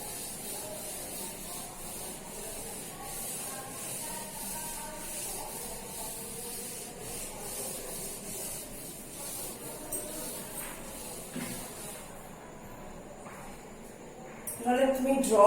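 A board is rubbed clean in a classroom, giving a steady scratchy swishing that continues for several seconds, with a few clinks near the end.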